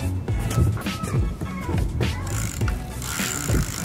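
Rapid, steady ratchet clicking from a cheap $60 bicycle's rear hub freewheeling, close and fairly loud, a dense buzz of tiny clicks.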